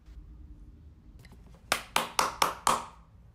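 Five crisp hand claps come in quick, even succession as a sound effect in an audiobook. Soft faint taps precede the claps, and the background is otherwise quiet.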